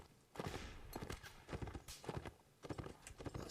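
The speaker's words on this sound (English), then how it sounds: "looks like one of them has lost his horse" Horse hooves clatter in quick galloping bursts during a Mount and Blade line battle event, the rhythmic clip-clop rising and falling in several close, busy runs with no talk.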